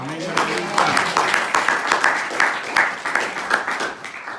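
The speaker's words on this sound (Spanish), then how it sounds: "¿Le podemos dar aplausos al Señor?" A church congregation gives applause, steady rhythmic group clapping that swells and repeats in a regular beat, fairly loud, with a voice talking faintly underneath.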